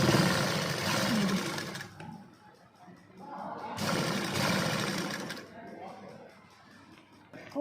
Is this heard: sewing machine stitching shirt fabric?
yes